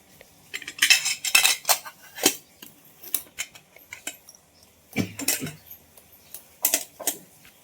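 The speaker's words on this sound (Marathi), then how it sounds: "तर माझा तिचा डबा भरते चपाती ही फ्लावरची भाजी असं आहे आता मी डबा भरते" Packing a tiffin lunchbox with chapati and cauliflower curry: irregular clinks and scrapes of a steel spoon against metal dishes and containers, in close, busy bursts with short pauses.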